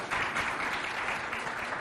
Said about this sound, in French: On applaudit ce match, s'il vous plaît.